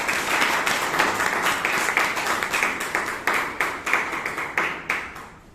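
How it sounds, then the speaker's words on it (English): Toastmasters meeting audience in Bangalore giving a round of applause for a speaker and evaluator, a smallish group clapping in a steady, somewhat rhythmic pattern with pulsing swells, fairly close and fading at the end. "So for the speaker and the evaluator, let's give a good round of applause."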